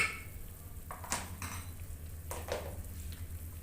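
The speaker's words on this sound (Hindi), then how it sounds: "इनको हम लोग अच्छी तरह मिक्स कर लेंगे।" Spices like red chilli powder, coriander powder and whole garam masala get stirred into potatoes, carrots and peas in a pot, with a few scraping spoon strokes over a soft frying sizzle, close and moderately quiet.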